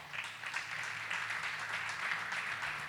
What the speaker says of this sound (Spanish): ¿Cuánto le pueden dar un aplauso, Señor?